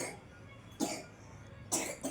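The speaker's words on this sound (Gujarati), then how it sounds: "જો ઉધરસ થઈ ગઈ" A few short coughs break out close by, two sharp bursts and then a smaller one, over a quiet room.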